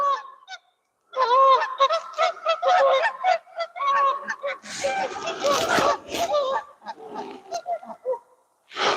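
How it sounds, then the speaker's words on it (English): Canada geese coming in to land over a lake honk repeatedly in loud, close bursts with brief gaps between calls. "You missed Canadian geese just coming in for a landing."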